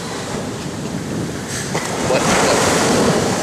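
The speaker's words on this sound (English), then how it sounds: "these waves are crazy" Ocean surf at Cabo, a broad rushing roar of waves with wind buffeting the microphone, swelling louder toward the end as a wave crashes; a voice briefly speaks.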